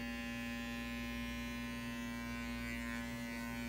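Electric hair clippers buzz steadily at close range while cutting a clippered lob haircut, a constant hum with no pauses.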